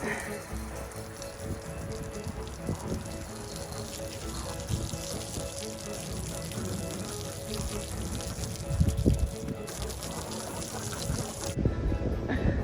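Steady rushing water sprays and splashes continuously against a camper van being washed down after a storm, with a brief louder gush toward the end.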